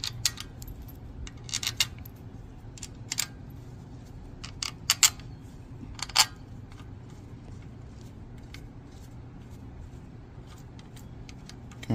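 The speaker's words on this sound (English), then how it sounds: "All right, so I'm gonna put the screws back in." Screws being put back into a 5HP Briggs & Stratton engine during restoration produce sparse, sharp metallic clinks and small taps of parts and tools, close and irregular over a low steady hum, with no talking.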